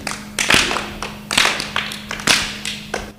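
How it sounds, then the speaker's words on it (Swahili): A group claps hands together in a rhythmic burst during a church song session, with several loud, sharp clap clusters spaced across a few seconds, close and fairly full. "tupige makofi."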